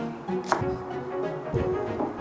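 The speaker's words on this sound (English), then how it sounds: "I'm gonna try and get a really nice and fine slice on these" A knife finely slices spring onion green tops on a cutting board for prawn fried rice, a few soft, close chops spaced unevenly over a quiet kitchen background.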